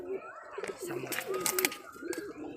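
Foreign-breed pigeons kept at a home loft cooing close by, a few soft repeated coos with faint background rustle.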